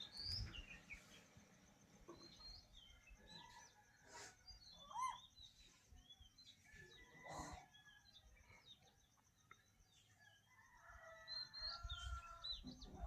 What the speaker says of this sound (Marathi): सकाळच्या पाळी कोंबड्यांचं अरवणं